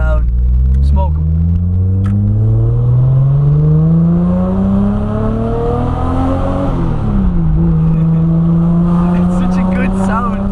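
A Nissan Skyline engine revs hard and climbs in pitch, briefly drops as it shifts, then pulls again, loud and close, with people talking over it.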